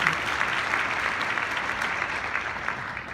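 A convention crowd at a Hispanic Chamber of Commerce awards event in Philadelphia claps steadily, a dense, sustained applause that holds level and softens slightly toward the end.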